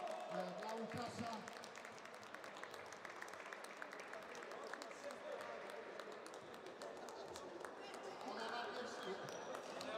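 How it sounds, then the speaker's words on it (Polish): Indoor applause for a youth football player receiving an award, with scattered clapping and tapping under a hubbub of voices and people talking nearby. "Wielkie brawa dla Łukasza."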